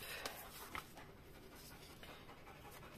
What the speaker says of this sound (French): mon chien revient de dehors, il a été courir. C'est pour ça qu'il buffle.